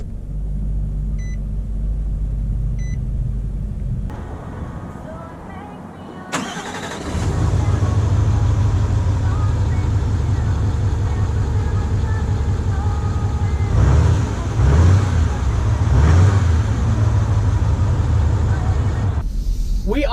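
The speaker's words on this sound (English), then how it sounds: "We are setting off here in the 2019 Titan Diesel XD" A 2019 Nissan Titan XD diesel pickup, Pro-4X with Cummins engine, pulls away: a quieter rumble gives way after a sharp change to a steady, loud low engine drone with road noise, brief surges, and a voice talking over it.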